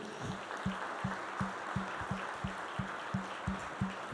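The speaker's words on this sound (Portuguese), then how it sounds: "Dê um aplauso ao Senhor" A church congregation claps in a steady rhythmic beat, crisp hand claps repeating about three times per second over a diffuse wash of room noise.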